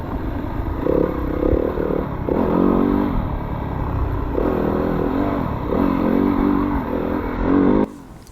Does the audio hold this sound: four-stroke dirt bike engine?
yes